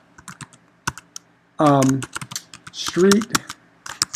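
Quick, irregular clicks of computer keyboard typing while a name is entered into a form. Someone speaks over the tapping in short bursts.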